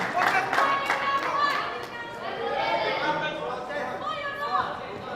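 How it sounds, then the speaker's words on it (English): Crowd cheering and clapping at a junior squash semi-final on a glass court, a lively mix of applause and chatter heard close under a commentator's voice. "Listen to that crowd."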